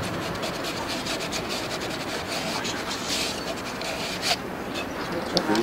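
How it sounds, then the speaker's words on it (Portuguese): Sandpaper rubbing across the ends of PVC pipes and the sockets of fittings during plumbing work, a continuous rough scraping with quick repeated strokes and a couple of sharper scuffs near the end. "Depois você vai lixar as pontas dos tubos e as bolsas das conexões."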